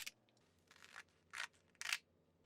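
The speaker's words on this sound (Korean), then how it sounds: "김밥용 김을 4등분으로 잘라주세요" Scissors cut gimbap seaweed sheets into quarters, making three or four crisp snipping crunches spaced about half a second apart, close and clear against a quiet background.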